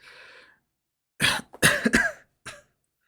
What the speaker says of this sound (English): in the background, just kind of coughing